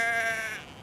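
A single sheep bleat near Hadrian's Wall in northern England, one wavering, nasal call heard loud and close for under a second, fading at the end with no voices.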